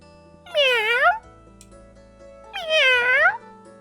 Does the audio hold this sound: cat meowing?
yes